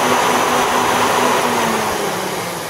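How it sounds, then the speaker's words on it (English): Electric cooling fans on a Jaguar XJ12 Series 3 with a V8, powered through a temporary test wire, whir steadily at close range with a constant airy hum that eases off slightly toward the end. "I've just put a little wire here just so I can test the fans."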